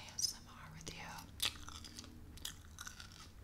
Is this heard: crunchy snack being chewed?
yes